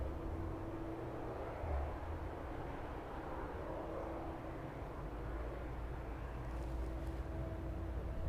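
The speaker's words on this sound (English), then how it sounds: "777 off into very cloudy sky for us this evening" A Boeing 777 airliner taking off from East Midlands Airport on a cloudy evening, heard as a steady, fairly distant broadband engine roar with a faint low hum that holds throughout.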